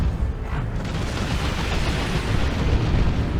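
A Kaboom blast from Dawn of War 2 Retribution, with looter fire striking a Death Dread. It lands as a loud, sustained rumbling explosion close by, a heavy boom rolling on over the whole stretch.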